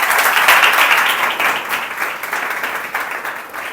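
Audience applauding two successful students at a coaching institute event, a dense wash of many hands clapping, loud and close, fading slightly toward the end, no talk over it.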